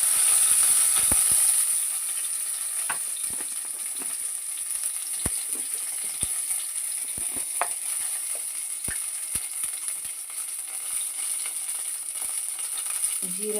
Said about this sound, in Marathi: आता कढीपत्ता टाकते